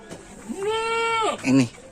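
A sick goat gives a single loud, close, drawn-out wavering bleat, followed by a shorter second call.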